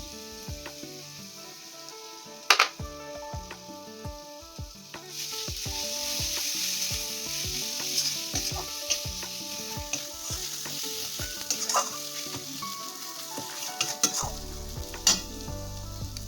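Ground coriander and cumin powder sizzle in hot oil while being stirred for an egg do pyaza, with a steady fry hiss and frequent scraping spoon strokes throughout, close and fairly loud, no talking.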